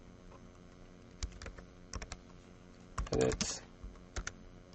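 Typing on a computer keyboard while writing a function in MATLAB: irregular clusters of close, light keystrokes with short pauses between them and a denser flurry near the middle.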